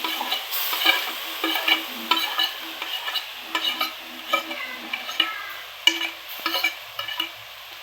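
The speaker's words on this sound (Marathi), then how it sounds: "अशा पद्धतीने सर्व मिरच्या कढईमध्ये घातल्या आहेत आणि आपला गॅस चालू ठेवायचा" Chillies fry in a hot kadhai, a bright sizzling hiss broken by rhythmic scraping stirs of a spatula, close and steady, with no talk.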